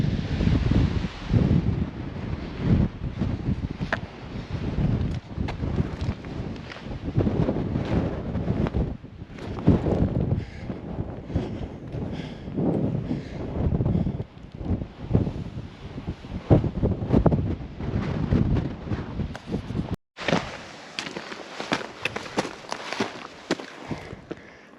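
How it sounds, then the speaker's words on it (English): Strong wind buffets the microphone on an exposed desert hilltop above Picture Canyon, a loud steady roar with gusty swells that runs almost continuously before cutting off abruptly near the end. "A little bit of wind up here today."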